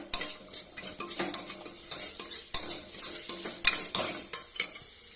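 Rajma is stirred in a cooking pan with a spoon, making irregular scraping strokes and sharp metallic clinks against the pan over a soft sizzle. Nobody talks.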